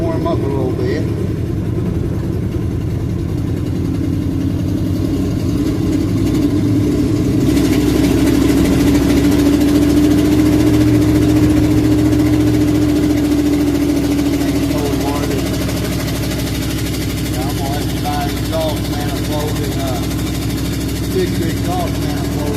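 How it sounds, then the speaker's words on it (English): An older truck engine idles steadily while warming up, a continuous low rumble heard close for over twenty seconds with a brief swell in revs midway and someone talking over it. "try to let this truck warm up a little bit."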